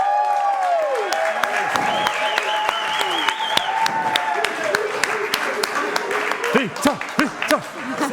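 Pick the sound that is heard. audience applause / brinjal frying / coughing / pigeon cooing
audience applause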